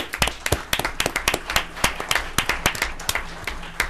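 An audience at a county Board of Commissioners meeting applauds nearby, a modest group of distinct, sharp handclaps in an uneven rhythm, steady for a few seconds with no talking.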